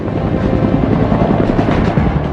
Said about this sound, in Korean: 바로 육군 항공의 꽃이자 지상전 핵심 전력 공격 헬기 코브라다.